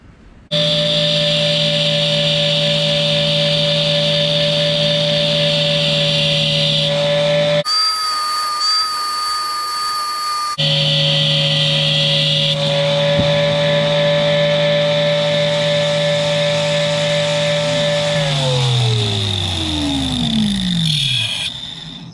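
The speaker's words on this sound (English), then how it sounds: "So what I plan on doing is grinding this edge straight back." Power grinder working the edge of a steel step drill bit, a loud sustained whine with steady tone, briefly cut off mid-way then resuming before spinning down at the end.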